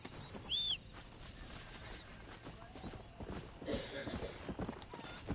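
Hooves clip-clop from a horse in the video game Red Dead Redemption, a steady rhythmic trot under game ambience and a brief bird call, with a louder burst of hoofbeats partway through.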